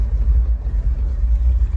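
A 1964 Buick Wildcat convertible V8 running at a cold start, a deep steady idle rumble close by and loud, with no speech.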